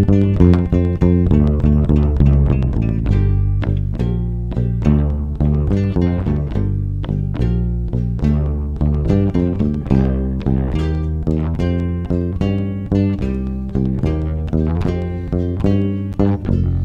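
A band plays a song live, with dense full-band music, steady rhythmic hits and sustained harmonic layers, loud and continuous throughout with no talking.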